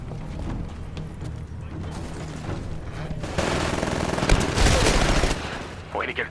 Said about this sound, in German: Ah ja, eine Autopistole.